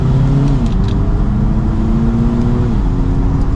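Steady four-cylinder exhaust drone from a 2023 Audi TT 45 TFSI Quattro Roadster driving with the top down around a turn, continuous and fairly loud, with the engine pitch shifting slightly as it holds a mild pace.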